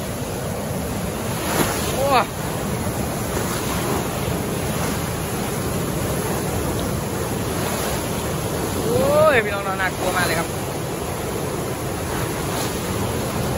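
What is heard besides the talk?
floodwater rushing out of Huai Saneng reservoir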